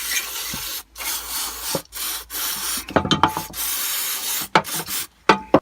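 Old grass, grease and petrol being blasted off an old Honda HRH536 lawn mower, giving a rough, broadband scouring hiss broken by short gaps and a few sharp scraping bursts near the end.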